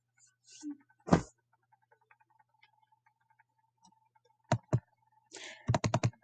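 Computer keyboard being typed on while entering text with HTML tags; a few scattered clicks, then short bursts of quick, crisp keystrokes close by in a quiet room.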